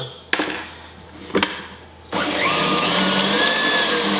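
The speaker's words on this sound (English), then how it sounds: "we're going to beat the eggs on high speed so they form soft peaks" An electric mixer beats seven egg whites with cream of tartar on high speed. Two sharp knocks come first, then a steady, loud whirring drone starts and holds to the end.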